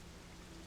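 Rain pounding steadily on thin window glass in the video game Fatal Frame 5, a dense, even hiss of drops with no breaks, heard alone at low volume.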